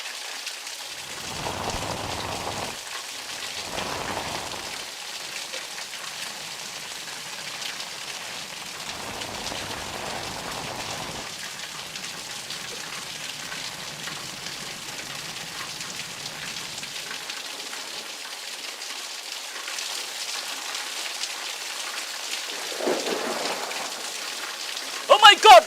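Heavy rain pours steadily during a thunderstorm in Hyderabad, a dense hiss that runs through the whole stretch. Someone talks over it in bursts, and no distinct thunder clap stands out.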